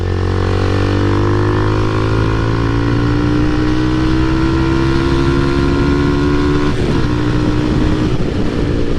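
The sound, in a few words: motorcycle riding with road and wind noise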